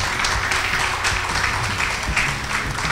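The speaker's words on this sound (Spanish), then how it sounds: "Con el apoyo de una gran mujer que es Jacqueline, para la cual pido un aplauso" An audience at a film festival in Carora applauds a singer, the wife of the man on stage, producing a continuous, fairly loud patter of many hands clapping throughout.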